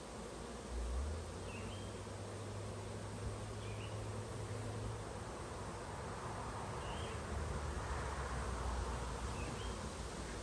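Bees buzz steadily around a swarm trap holding comb, a continuous close insect drone with a few individual bees passing nearby and a low hum beneath.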